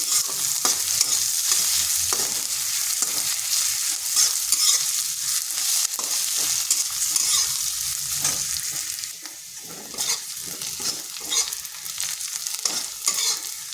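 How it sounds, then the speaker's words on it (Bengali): Medium onion cut into long slices sizzles and fries in a pan, with steady crackling throughout and repeated scraping stirs, close and loud, no voices. "পেঁয়াজটাকে একটু ভেজে নিচ্ছি"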